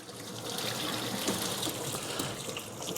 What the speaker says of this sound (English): You're straining our potatoes.